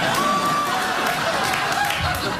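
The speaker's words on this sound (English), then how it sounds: "that was genuine applause right now" A late-night television studio audience applauds and murmurs, steady clapping filling the room at moderate volume, with a voice speaking over it.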